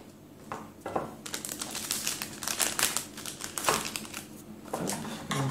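Handmade soaps being wrapped in crinkly packaging, with close, continuous crumpling and rustling that comes in quick bursts, fairly quiet and without speech.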